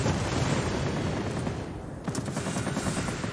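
Warplane in World of Warplanes firing a salvo of rockets, a dense rapid crackle of launches and blasts that stays loud and continuous, with a brief dip before another burst of fire.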